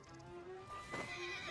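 A horse neighs in Assassin's Creed Origins, a quiet, drawn-out whinny over soft game ambience, with faint hoof clops in the background.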